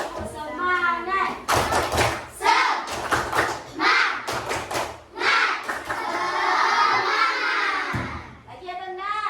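Children in a classroom doing a clapping ice-breaker chant, bursts of rhythmic claps and thumps mixed with loud shouted chanting and lively young voices, with an adult voice speaking at the start and end.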